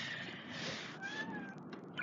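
A domestic cat meows in a drawn-out, wavering cry, close and moderately loud against a quiet indoor background.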